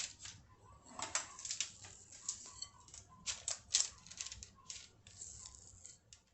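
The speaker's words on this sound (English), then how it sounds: "And just start scooping them out." Soft, irregular scraping and light taps repeat in quick succession as a metal portion scoop works through thick, buttery keto cheddar biscuit dough and drops portions onto a pan nearby.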